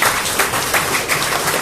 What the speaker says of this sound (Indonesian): Tepuk tangan buat Indonesia kita.